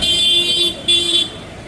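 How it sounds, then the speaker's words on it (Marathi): A car horn honks in two sustained blasts with a short gap between them, close and loud, as the mayor's car arrives on a city street. "महापौरची गाडी आली इकडे"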